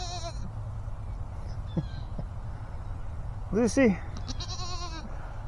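Goats bleat a few times at a yard, one short cry early and a louder wavering double bleat later, over steady outdoor background while a person calls out briefly.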